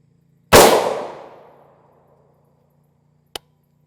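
A single loud, close gunshot fired over a chronograph with 4.6 mm rounds cracks sharply and rings out, decaying over about a second, followed by a brief faint click.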